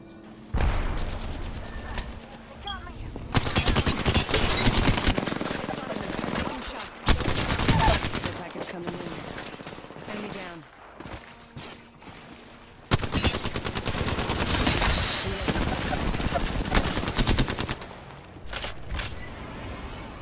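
Sustained bursts of automatic gunfire in the battle royale video game Apex Legends, loud rapid volleys in several long stretches with brief lulls between, under faint game voice callouts.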